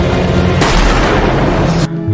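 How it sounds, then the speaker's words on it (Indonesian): A loud gunshot in a film scene lands as a sudden heavy boom, followed by a sustained rumbling blast that cuts off abruptly near the end. "Polisi datang dengan sebuah tembakan yang berhasil melumpuhkan si rampok"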